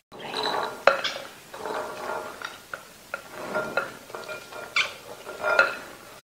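Salad being mixed in a bowl, stirred with a utensil, giving repeated soft scraping and clinking taps of cutlery against the dish, close by and uneven in rhythm, with no talking.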